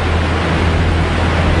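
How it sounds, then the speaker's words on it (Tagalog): Floodwater rushes down a mountainside in heavy, unrelenting rain, a loud, steady broadband roar with deep low rumble, continuous and without pause. "Ayaw tumigil ng ulan, tila galit na umagos ang tubig."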